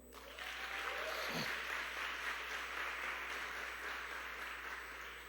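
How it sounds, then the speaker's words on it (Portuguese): A church congregation gives a round of applause for Antônio, a full, even swell of many people clapping that rises quickly and holds steady, with a faint whoop cutting through near the start and a low steady hum beneath. "uma salva de palmas para o Antônio"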